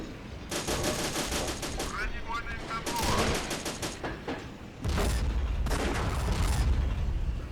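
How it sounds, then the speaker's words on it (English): Video game machine gun fire rattles out in sustained automatic bursts, loud and near, with short pauses between volleys and no talk. "Let's use some machine gun fire here to maybe take out the gunner on that thing."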